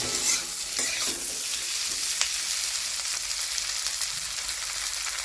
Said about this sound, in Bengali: এবার এই সমস্তগুলোকে একসাথে আমরা আরেকবার একটু ভেজে নেব।